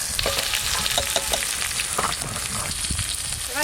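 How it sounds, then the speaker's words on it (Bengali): Chopped raw tomatoes frying with onions in hot oil in a pan, giving a loud, steady sizzle with crackling bursts and occasional stirring scrapes throughout, no voices. "টমেটোগুলো একটু এদিকে ভালো করে ভাজা হতে থাক।"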